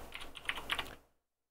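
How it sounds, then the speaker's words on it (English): Short burst of typing on a computer keyboard, a quick run of close, crisp key clicks lasting about a second before falling silent. "and then type in your default gateway."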